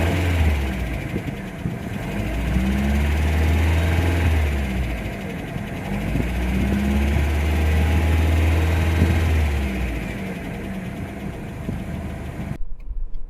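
A 1996 Ford Laser Lynx with a Mazda BP engine idles close up, a steady mid-pitched running hum that swells slightly in slow cycles, smooth and free of ticking, alone and unbroken until a sudden cut.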